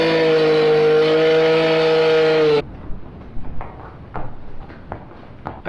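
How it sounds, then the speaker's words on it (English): A concrete-cutting saw gives out a steady, loud, harmonic whine for about two and a half seconds, then abruptly stops, leaving only faint scattered clatter and knocks. "he's in there cutting the concrete"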